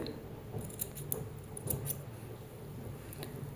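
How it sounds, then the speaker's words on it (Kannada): Scissors snipping the threads of a tassel for a baby kuchu decoration, a series of faint, close, irregular snips and small clicks over quiet room noise. "ಥ್ರೆಡ್ಗಳನ್ನೆಲ್ಲ ಕಟ್ ಮಾಡ್ಕೋಬೇಕು"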